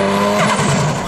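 Toyota Supra engine roaring loudly and close in a continuous harsh blast, with a rough, crackling edge from the pop-offs.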